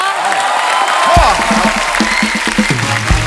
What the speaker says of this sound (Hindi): फिर आप लोगों के एल्बम के लिए जोरदार एक बार तालियां हो जाए।